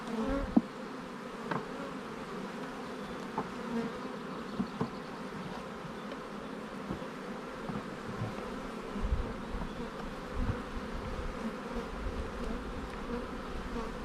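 Honeybees buzz around an opened nucleus hive while a colony is being split, a dense, steady hum close by with small swells and no talking.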